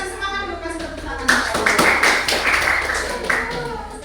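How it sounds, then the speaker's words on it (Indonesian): A classroom of students claps for a classmate coming forward to present, with scattered hand claps rising after a voice and continuing under murmured talk. "Kita kasih semangat dulu, kasih tepuk tangan."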